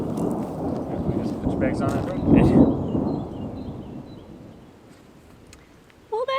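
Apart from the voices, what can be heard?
thunder during a storm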